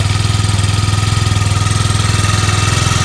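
A SYM 50 scooter engine fitted with a new muffler idles steadily, a smooth, even low putter with a fast regular pulse, close and loud, holding without revving.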